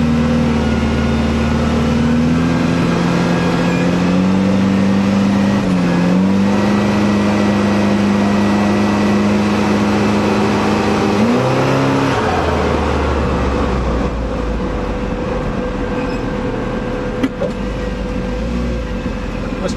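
A Commer 2.3 turbo engine pulls up a hill in second gear on high boost, with a loud, steady drone that climbs in pitch, dips at a shift and then settles into a lower rumble.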